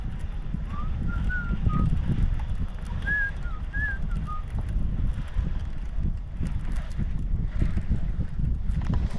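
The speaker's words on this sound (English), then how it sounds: "Overcast conditions, a little bit of wind." Steady wind gusting over a grassy lake on an overcast fall day, a continuous low rumble of buffeting against the microphone with a few faint bird chirps rising above it.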